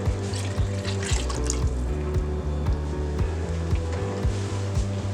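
Two cups of milk pour steadily into a pan with a continuous sloshing flow and a low rhythmic hum underneath, no voices.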